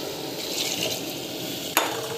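Water poured into a cooking pot in a home kitchen, a steady close splashing fill with a brief louder gush near the end, no voices.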